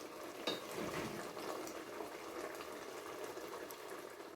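Pot of stew peas with spinach simmering on the stove, a faint steady bubbling and soft crackle that stays even throughout.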